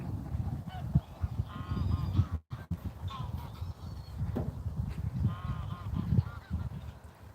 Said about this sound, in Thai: มาชมน้องหงไอ้น้องห่านค่ะ ชมห่านชมนกค่ะ